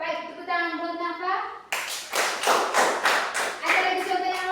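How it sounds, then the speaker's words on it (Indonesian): Classroom of children clapping for a classmate, a burst of uneven hand claps starting abruptly after a voice, close and fairly loud with scattered individual claps. "Baik, tepuk tangan buat Nafa."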